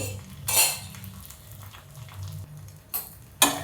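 Pumpkin pancake (dhirde) being flipped in a pan with a spatula: a few sharp metallic scrapes and clinks, one near the start and two close together at the end, over a low steady sizzle.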